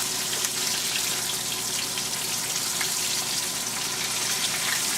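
Cuban empanadas frying in hot oil on medium heat, a steady dense sizzle and crackle that holds at an even, fairly loud level throughout with no voices.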